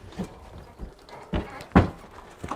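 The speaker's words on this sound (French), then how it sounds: "Et les chevaux descendent en toute sécurité" Horses stepping down out of a Fautras horse trailer, several heavy hollow thuds of hooves on the ramp at an irregular pace, close and distinct.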